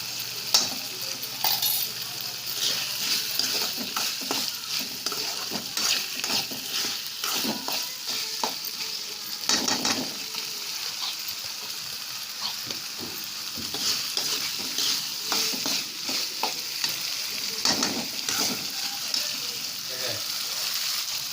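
Black peas stir-fried in hot oil in a pan give a steady, close sizzle with continuous scraping and stirring strokes throughout, no voices.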